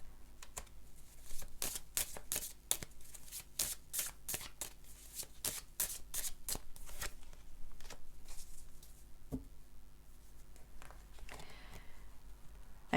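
Tarot cards being shuffled by hand, a long run of crisp riffling bursts and slaps close to the microphone, with no talk.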